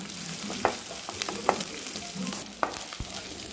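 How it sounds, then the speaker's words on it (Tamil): Onions sautéing in a pan for an aval (flattened rice) breakfast, a steady close sizzle broken by a few sharp scraping stirs of a spatula. "இப்போ வெங்காயம் எல்லாம் நல்லா ப்ரௌன் கலராக நல்லா வணங்கிடுச்சு."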